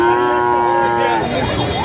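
A cow at a busy cattle market gives one long, loud, close moo that fills most of the moment, with the market's hubbub underneath.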